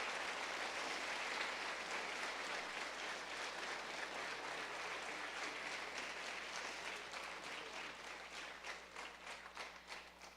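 Audience applause at an 8th grade middle school promotion ceremony, a steady, dense wash of many hands clapping that carries on at length and gradually thins toward the end.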